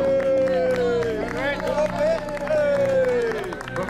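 Spectators clap and cheer for runners at the finish of a running event in Apeldoorn, the crowd noise sitting under loud music with a prominent melodic line and babbling voices throughout.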